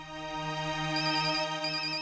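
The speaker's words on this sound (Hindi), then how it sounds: "ऑफिस से फोन है, मुझे जाना होगा।" A phone rings with a call from the office, giving a steady electronic trill that holds at a moderate level without pause and is heard alone.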